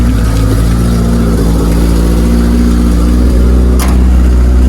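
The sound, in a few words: Suzuki Samurai engine running after starting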